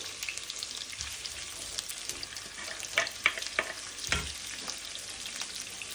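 Onions fry in hot oil with a soft, steady hiss and occasional louder crackles and spits. The sound is fairly quiet and heard close up.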